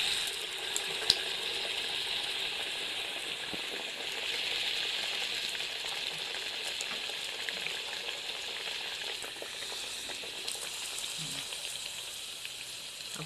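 Mutton vada frying in hot oil in a kadhai, a steady, dense sizzle and crackle that holds evenly throughout with no voices over it.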